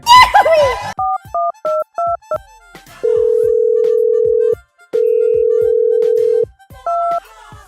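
A phone ringback tone: short repeated double beeps, then two long steady tones with a gap, and beeps again. A brief voice sounds at the start.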